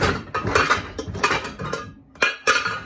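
Pyrex glass dishes clink and clatter in a home kitchen during cake-pop baking, with repeated close knocks of glass against glass and hard surfaces.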